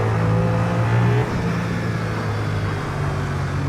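A race car in the Assetto Corsa racing game, held in second gear, with its engine droning loud and steady throughout; the engine note dips slightly partway through, with no talk.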